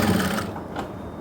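A sewing machine stitches the seam of an angrakha-style suit, a quick rattling mechanical whir that runs steadily, then drops away, leaving faint ticking.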